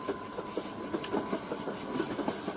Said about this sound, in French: Le train, on l'entend après avec certains bruissements sur les rails.